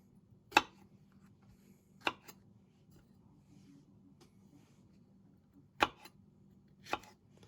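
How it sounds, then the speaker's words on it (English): A knife chops through fresh okra pods on a cutting board, cutting them into half-inch to inch sections: four sharp, separate knocks spaced irregularly over several seconds, close and clear against a quiet low hum. "I want to cut them in a 1/2 inch to 1 inch sections"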